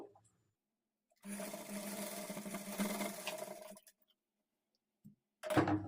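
Sewing machine stitching a halter neck blouse, running in one steady burst of about two and a half seconds with a humming whir, then stopping, followed by a short final spurt; quiet and close.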